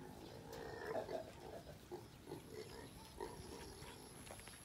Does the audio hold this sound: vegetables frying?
no